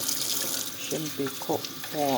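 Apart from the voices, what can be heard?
tap water filling a plant pot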